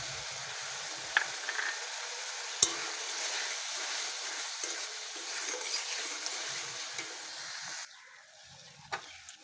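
Green peas going into frying spice masala in a pan, a steady sizzle with the soft scrape of stirring, easing to quieter frying near the end.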